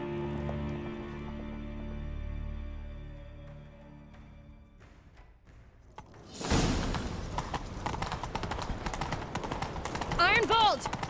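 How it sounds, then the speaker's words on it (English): Horses gallop in a chase in The Witcher 3, a rapid thudding of hooves that bursts in after a quiet musical stretch and carries on loud, with a rising horse call near the end. "Grab a horse, we'll chase him."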